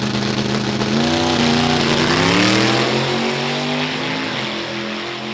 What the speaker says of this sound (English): Rich Meyer driving the 1940 Chevrolet in lane number 2